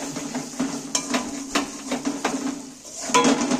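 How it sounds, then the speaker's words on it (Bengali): Spice masala being stirred in a cooking pan while fish is fried in oil, with repeated clinks and scrapes of a utensil against the pan over a faint sizzle, close by and steady. "এইবার আমি মশলাটা একই সাথে নেড়ে দিচ্ছি।"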